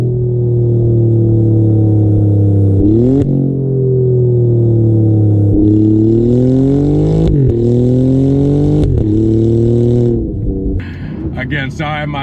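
A 2019 Alfa Romeo Giulia Quadrifoglio revs hard on a drive, its engine note climbing and dropping through several gear changes, loud and close, with sharp crackles near the end.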